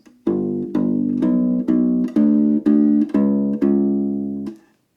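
Blues rock bass line on a U-Bass ukulele bass, a walking variation leading into the next chord: eight plucked notes in a steady even rhythm, each ringing warm and full until the next, played alone and close.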